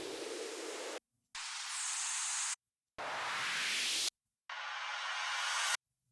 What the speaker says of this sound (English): For the effects, I added some white noise uplifters.